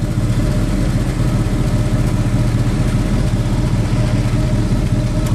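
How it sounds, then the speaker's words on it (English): An old GM car with its factory exhaust idles, giving a steady, mellow, low rumble that holds an even level throughout, close by, with no talking. "how mellow the exhaust tone is"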